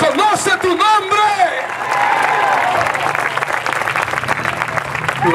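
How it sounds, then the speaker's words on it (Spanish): A church congregation claps loudly during a Spanish-language Bible Day service, a dense burst of applause following singing voices and continuing as sustained clapping. "Alguien está aplaudiéndole fuerte al Señor."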